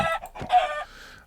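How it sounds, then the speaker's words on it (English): A couple of short Minecraft chicken clucks sound close and clear, a quick pair of squawky calls with nothing else around them. "kill all the chickens automatically. See, they're spawning."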